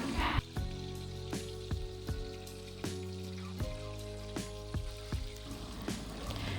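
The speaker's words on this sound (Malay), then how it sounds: "goreng ikan siakap ni sehingga masak dan sedikit garing" Whole sea bass fries in hot oil, a continuous loud crackling sizzle with sharp spattering pops throughout, close and alone with no voices.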